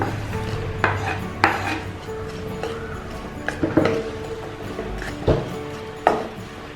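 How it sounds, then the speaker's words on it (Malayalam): Crushed garlic and sliced onion sautéing in melted butter in a pan for tomato bread soup, heard as intermittent spatula knocks and clinks against the cookware over a faint background sizzle, with no speech. "ഇത് ബട്ടറിൽ ഇട്ടിട്ടൊന്ന് വാട്ടിയെടുക്കാം"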